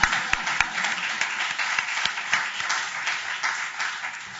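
An audience at a law school teaching awards ceremony gives moderate, steady applause with a few sharper individual claps standing out near the start.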